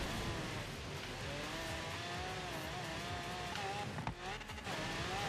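A Mustang races across sand in Forza Horizon 3, its engine droning steadily with rising and falling revs throughout, loud and continuous, with a brief scuffing burst near the end.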